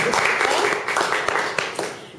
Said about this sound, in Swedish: Vi gör en applåd för oss själva.